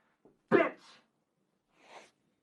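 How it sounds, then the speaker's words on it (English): A short throaty burst followed by a softer rasp, then a second quieter clearing sound after a pause, close by with no talking. "No, I was clearing my throat."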